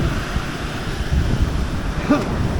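Large waves wash steadily against a seashore with broadband roar and wind buffeting the microphone, continuous and fairly loud with no talking.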